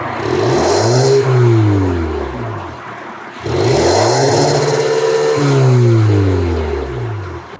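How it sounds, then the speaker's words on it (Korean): A Kia K5 GT Line with its variable exhaust valve closed revs twice while parked, each rise swelling into a deep engine drone and falling back, loud and close with a short idle between. "이 상태가 가변 배기를 끈 상태입니다."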